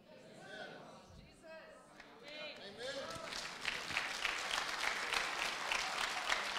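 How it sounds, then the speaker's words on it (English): A church congregation claps and cheers, starting as scattered claps and murmurs and swelling into loud, sustained applause with crowd voices mixed in. "Yes, that's a good place to clap for Jesus."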